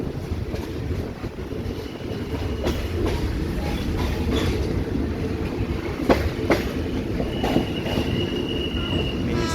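A train pulling into the old Bang Sue station in Bangkok, a steady loud rumble of wheels on rail with rhythmic clicks and occasional squeals, close and continuous throughout.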